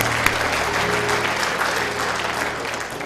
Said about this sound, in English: Come on, clap them hands.